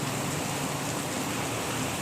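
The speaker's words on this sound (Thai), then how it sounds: "ฝนตกค่ะ ต้นไม้ก็ชุ่มฉ่ำเลยวันนี้" Steady rain hisses down on trees in Bangkok in a continuous wash of noise, fairly close, with no distinct drops or voices.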